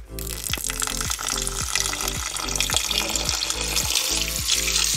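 Rice being rinsed by hand in water before cooking in a home kitchen: steady running and swishing water close by, with a rhythmic series of sloshing pulses as the grains are stirred, with no talking.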